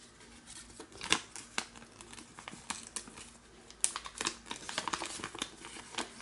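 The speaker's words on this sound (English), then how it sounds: "you're going to fold this edge to this edge, like this." Paper being folded edge to edge for an origami French flag, with close, crisp creasing and crinkling rustles and a few sharp handling taps, soft and intermittent with no talking.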